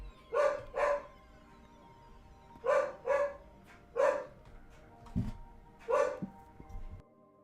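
A dog barking nearby, with several loud barks in pairs and singles spread over a few seconds and quiet pauses between.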